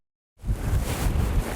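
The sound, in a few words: wind blowing outdoors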